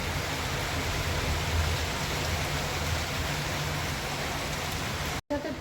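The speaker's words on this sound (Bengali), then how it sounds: "জোর বৃষ্টি নেমেছে।" Heavy rain falls in a steady, dense hiss, pouring continuously at an even, fairly close level with no voices over it, then cuts out abruptly for an instant near the end.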